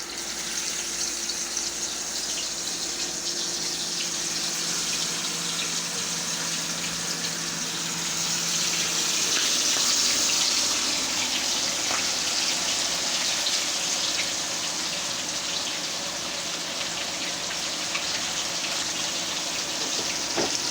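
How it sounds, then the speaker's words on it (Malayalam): Spice-coated mackerel fries in hot oil with a continuous loud sizzle and spatter, close and steady like heavy rain, surging briefly midway and running alone without any talk. "ഇനി ഈ അയലയെ അങ്ങോട്ട് ഈ ചൂടായ എണ്ണയിലോട്ട് അങ്ങോട്ട് കൊടുക്കാം."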